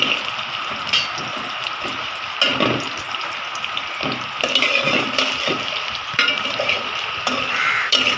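Chopped onions frying in oil are stirred in a pan, with repeated scraping strokes over a soft, continuous sizzle, close by.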